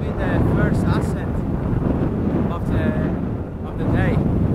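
Steady gusting wind on a hill ascent in Scotland rumbles against the microphone, with a voice speaking intermittently through the noise.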